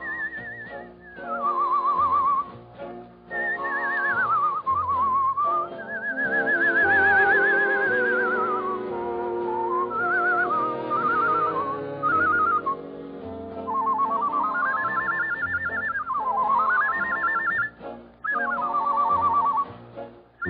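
A man whistles a warbling nightingale imitation on a radio broadcast, sliding trills and long swooping notes over soft accompaniment, steady and close for the whole stretch.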